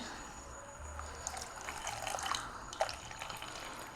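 Lukewarm water poured into a container while preparing a homemade kitchen cleaner, a soft trickling splash that builds briefly and then tapers, faint and close.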